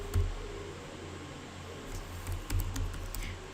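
Keyboard keys clacking as code is typed on a computer, scattered close taps in short bursts with a faint background hum and no voices.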